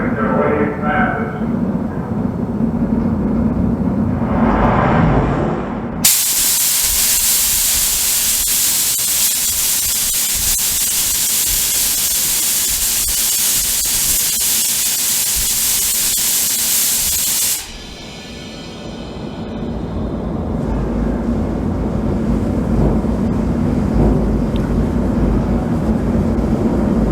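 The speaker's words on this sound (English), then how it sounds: "Inside the theater there, it feels like you're getting shook from a nuclear blast." Simulated nuclear blast shock wave in the theater of the National Atomic Testing Museum in Las Vegas: a sudden loud roaring rush of noise sustained for about ten seconds, then dropping away, with muffled voices and room sound before and after.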